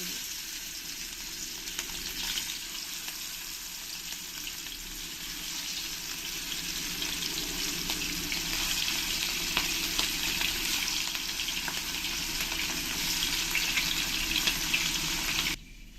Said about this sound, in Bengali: আমার তেলটা গরম হয়ে গেছে এবার আমি এক এক করে মাছগুলো সব ফ্রাই করে